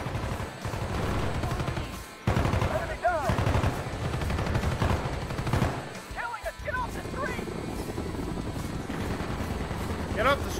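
Rapid automatic gunfire in Call of Duty: Black Ops crackles in dense bursts through most of the stretch, with game explosions, sharp impacts and voices talking over the shooting.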